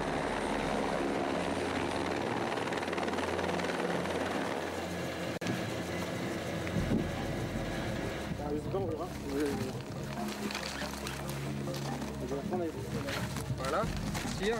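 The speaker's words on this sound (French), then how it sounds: "bien sûr en hélicoptère" A helicopter flies over the Piton de la Fournaise volcano, its rotor chop and engine drone running steadily throughout at a moderate distance beneath a voice speaking French.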